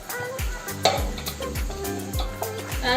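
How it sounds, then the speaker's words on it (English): Ugba and vegetable sauce being stirred in a pot, a spoon scraping and clinking in a repeating rhythm over a soft ongoing sizzle, close and moderately quiet. "Stir it well low, so that all your ingredients will not go one side and stay"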